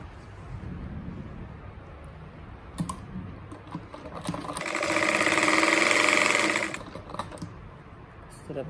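A sewing machine stitches a patchwork table runner in a short, fast, buzzing run of about two seconds. Quieter fabric handling and tapping surround it, close by.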